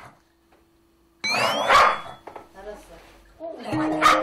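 A small pet dog barks and growls at its owner indoors, a couple of sharp close barks with snarling noise amid household sounds, and people talk in the background.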